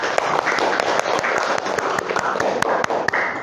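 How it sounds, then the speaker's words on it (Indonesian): Applause for a student in a classroom lesson: a dense, steady patter of many hands clapping throughout, moderately loud, with a few sharper individual claps standing out. "Tepuk tangannya untuk Mas Fadil."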